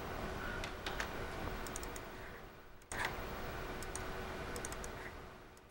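Sharp, quiet computer mouse clicks while editing text in graphics software, a few isolated clicks spread across the stretch against faint background hiss.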